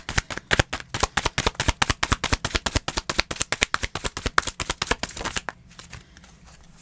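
Tarot cards shuffled rapidly by hand, a dense run of crisp riffling flicks for about five seconds before stopping into quiet room tone; no talking.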